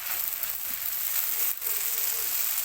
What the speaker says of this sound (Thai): ผัดให้นุ่มๆนิดนึงค่ะ